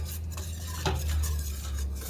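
A metal whisk stirs briskly in a bowl while au gratin potatoes are being made, giving a steady scraping and clinking that stays fairly faint over a low background hum.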